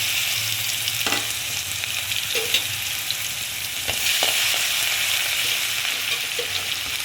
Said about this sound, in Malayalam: ഈ കടുക് പൊട്ടി കഴിയുമ്പോൾ നമുക്ക് ഒരു 10 അല്ലി വെളുത്തുള്ളി ചതച്ചതാണ്, അത് ഇതിലേക്ക് നമ്മൾ ഇട്ട് കൊടുക്കാം.